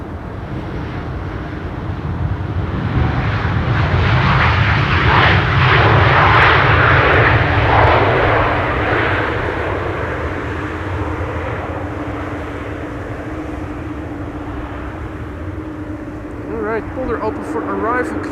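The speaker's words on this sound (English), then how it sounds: "Transavia arriving from Ibiza." A Transavia airliner lands at Schiphol after a flight from Ibiza, its engine roar swelling loud and steady, peaking near the middle and then fading, while someone talks over it throughout.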